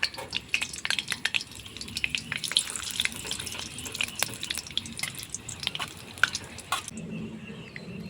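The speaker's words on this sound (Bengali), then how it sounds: "ফোড়নে দিয়ে দিব পাঁচফোড়ন, দুটা তেজপাতা, একটা শুকনো লঙ্কা" Panch phoron spices, two bay leaves and a dried chilli sizzle in hot oil, a steady crackle of fine pops and spits close by that cuts off abruptly near the end.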